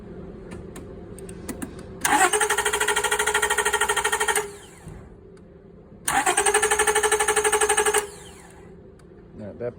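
During a cylinder compression test, an engine cranks in two separate bursts of about two seconds each, a fast rhythmic chugging from the starter, with quiet gaps and brief voices between them.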